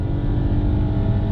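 A 2020 VW Polo engine roars loudly up close as the car accelerates hard, a continuous low droning rumble building through the short burst.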